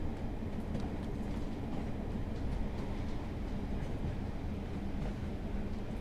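A two-car Class 142 Pacer train runs on the Blackpool South branch in Train Sim World 4, giving a steady, loud rumble with faint rail clatter and no voices.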